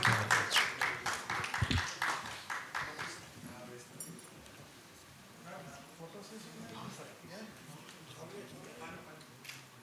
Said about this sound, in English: I think a big round of applause to Madam Desai for an excellent anchoring